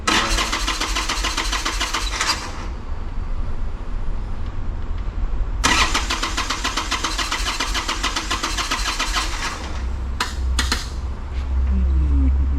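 A fuel-injected Harley-Davidson Sportster chopper engine cranks in two loud, rough bursts, then catches and runs, with a few short revs near the end.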